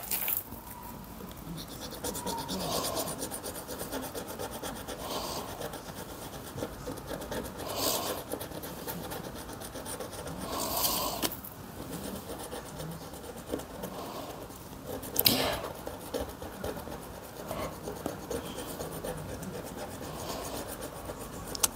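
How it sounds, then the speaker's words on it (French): A small tool scratches a scratch-off card in steady, close, soft rasping strokes with brief pauses, continuing for the whole stretch with no talk. "Et je vais la gratter."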